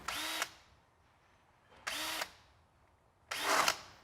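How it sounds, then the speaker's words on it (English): Drill chamfering pre-drilled holes in boat gel coat, three short separate whining bursts of about half a second each, fairly close, with quiet gaps between them. "we're going to remove the tape and we're going to chamfer the holes slightly"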